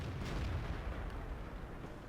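Booming tank cannon fire rumbles through a World of Tanks battle, heavy low-end blasts rolling continuously with no clear individual shot spacing, loud and sustained across the moment.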